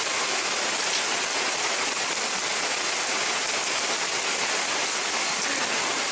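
Steady rain falling during a thunderstorm, a dense even hiss of drops on surfaces near the horses, continuous and moderately loud with no voices or thunder.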